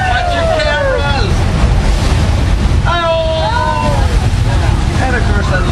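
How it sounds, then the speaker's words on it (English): A studio special-effects flash flood sends tank-stored water rushing through in a loud, continuous roaring wash, close and dense, while excited voices call out over it. "It is a flash flood."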